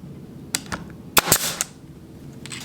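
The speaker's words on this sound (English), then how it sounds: "I'm going to go ahead and put one nail in there and see what it does." A WEN 61721 brad nailer fires a nail into wood with a sharp pneumatic crack and a hiss of air, followed by small clicks, close and loud.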